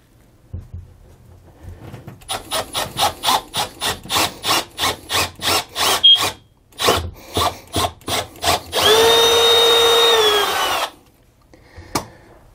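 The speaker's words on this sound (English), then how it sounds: "I'm going to drill a pilot hole right here in the floor" A long series of quick rhythmic scraping strokes on wood, then a sustained buzzing whir of a drill boring a pilot hole through the floor of a 2017 Keystone Hideout, stopping abruptly, followed by a single knock.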